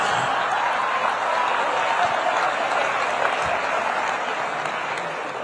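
Steady audience applause at a public speech by Rajnath Singh, a dense, even wash of many hands clapping throughout with no pauses and fading slightly toward the end.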